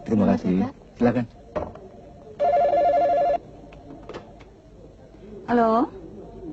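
An old-style telephone bell rings in a radio drama, one sustained ring between stretches of dialogue, close and clear, with voices talking before and after it.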